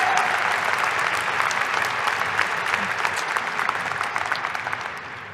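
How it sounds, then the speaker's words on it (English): A large crowd at a summer/fall commencement ceremony claps steadily in a sustained round of applause that stays loud throughout and thins slightly toward the close. "Let's give him one more round of applause."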